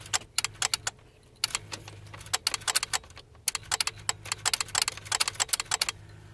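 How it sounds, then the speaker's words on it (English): A 6.0 Powerstroke truck gives off loud, sharp relay-like clicks when the key is turned, coming in fast irregular bursts with brief pauses between them, close up and with no talking. "it was making a loud clicking sound in here"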